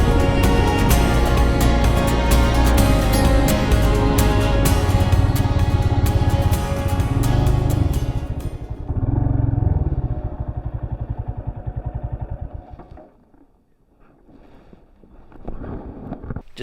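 Loud motorcycle engine and rattling clatter of tyres on a freshly laid layer of loose road stones on a high-country dirt track, steady for several seconds and then fading away, with wind noise buffeting the microphone.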